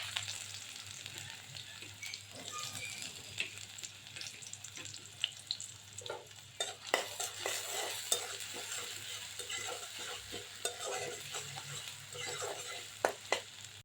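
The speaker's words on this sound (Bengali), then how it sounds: "চুলা একটা কড়াই বসিয়ে দিয়েছি এর মধ্যে তেল দিয়ে দিয়েছি এখন আমি পেঁয়াজটা দিয়ে দেবো" Onion frying in oil in a wok, a soft, faint sizzle with irregular spatula scrapes and clicks that grow busier toward the end, and no voices.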